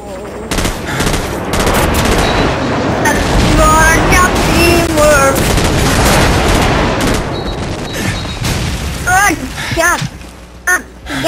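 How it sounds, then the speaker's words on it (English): A friendly airstrike in Call of Duty 4 brings dense, continuous machine-gun fire and rattling gunshots with booming blasts, loud and sustained, with a few sharp bursts near the end and shouting voices mixed in. "Friendly airstrike on the way!"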